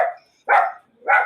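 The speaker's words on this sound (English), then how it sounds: "we can hear my dogs in the background" Dogs bark at home, three sharp, loud barks in a close, uneven sequence with brief silences between them and no talk.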